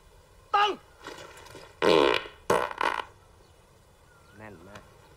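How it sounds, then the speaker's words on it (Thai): A series of loud, close fart sounds, some short and sputtering and one longer and buzzier, separated by pauses and followed by a faint croaky tail, heard among a group of soldiers standing in line. "แน่นมากเสียงแน่นจริงๆใครตด"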